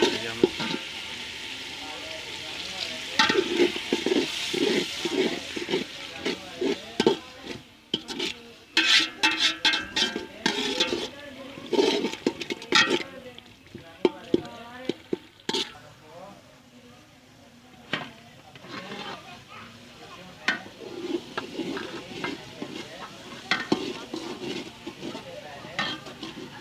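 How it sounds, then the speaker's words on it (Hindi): Masala sizzling in a pan for aloo matar pulao after a splash of water is added, with irregular scraping stirs and spoon clinks over a steady fry hiss, while a voice talks over it. "मसाला नीचे लगना शुरू हो गया था, थोड़ा सा पानी डाल दिया हमने।"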